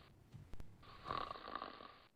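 A man snoring while lying on his back, one drawn-out rasping snore rising and fading over about a second, close and fairly quiet, preceded by a couple of soft clicks.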